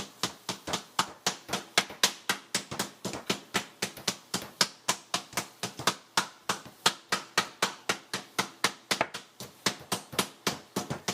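A meat tenderizer pounds flank steak for a keto stuffed flank steak, striking over and over in a fast, steady rhythm of sharp, close, loud thuds with no talking over them.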